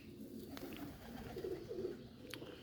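Racing pigeons from a champion breeder's loft coo softly in a low, steady murmur, with a couple of faint chirps over continuous background noise.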